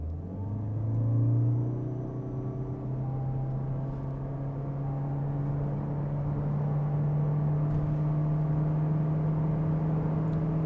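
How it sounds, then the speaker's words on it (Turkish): A 2024 Toyota C-HR with an electric motor accelerating from 0 to 100 in sport mode, heard from inside: a steady engine drone with a rising whine climbing smoothly as speed builds, fairly loud and without talking. "Aracın 0-100 hızlanmasına bakalım. Sürüş modumuzu spora aldık."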